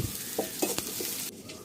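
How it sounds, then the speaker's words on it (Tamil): Mustard seeds, fennel and sliced onion fry in hot oil in a pan, giving a constant crackling sizzle. Several scraping strokes of a spoon stirring the mix sound close up. "கடுகு சேர்த்துக்கிட்டேன், சோம்பு, எண்ணெய், அப்புறமா நான் பெரிய வெங்காயம் தான் சேர்த்துருக்கேன்"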